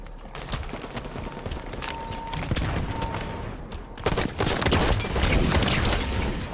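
Scatter shot gunfire in a competitive video game match, a stream of rapid crackling shots that grows louder and denser halfway through, with mechanical clicks mixed in.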